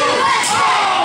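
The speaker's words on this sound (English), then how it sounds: "Listen to this crowd" Wrestling arena crowd roaring and cheering at a TWF championship match, a dense, loud wash of shouting voices filling the whole second without a break.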